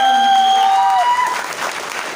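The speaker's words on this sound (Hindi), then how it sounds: "मैं चाहूंगा एक बार जोरदार तालियां" A seminar audience in Nepalgunj claps loudly, a dense burst of applause filling the room, with a tonal sound fading out at the start.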